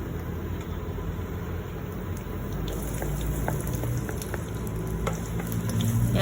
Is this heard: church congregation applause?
no